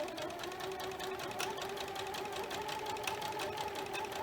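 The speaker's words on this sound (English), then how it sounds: "I'm going to sew a scant 1/4 inch seam allowance." Sewing machine running a scant quarter-inch seam through quilt fabric, a steady rapid needle chatter over a low motor hum, close and continuous throughout.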